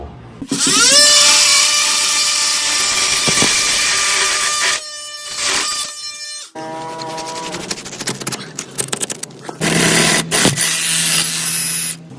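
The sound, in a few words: power drill drilling through wall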